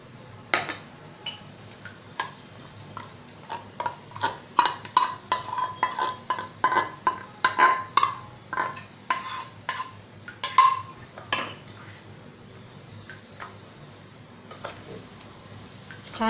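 Marinated mushrooms being stirred in a bowl for mushroom lollipops, a steady run of clinking, scraping spoon strokes against the bowl, close and fairly loud, with no talking.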